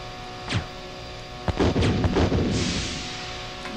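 Grenades exploding in the survival horror game Resident Evil, a muffled thud followed a second later by a burst of heavy blasts and debris that trails off into a low hum.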